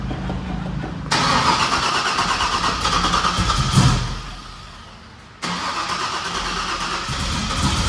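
A fully built Chevrolet Trailblazer SS starts up for the first time: the engine fires loudly and runs, dies away, then roars back to life and keeps running close by.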